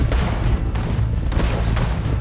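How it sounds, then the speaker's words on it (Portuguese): Enemy gunfire in Red Dead Redemption 2 in the town of Valentine: a dense, sustained fusillade of overlapping shots and booms at steady loudness, with no voices over it. "Gente, vocês estão atirando em mim"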